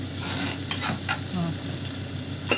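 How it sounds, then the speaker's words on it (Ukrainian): Onions sizzle steadily in a hot pan, with a few clinks and scrapes of stirring over the frying hiss. "Цибулька смажиться"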